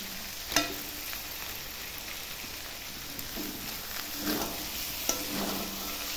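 Chicken sizzles and fries in a hot pan right after going in, a steady crackling hiss with occasional louder pops and stirring scrapes, close and fairly quiet, with no talking.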